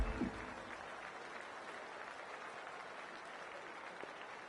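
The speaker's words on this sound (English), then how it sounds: "It's a fantastic crowd in today." A large crowd at a West Indies versus Australia T20 cricket match applauds steadily, a broad, distant wash of clapping that holds evenly throughout.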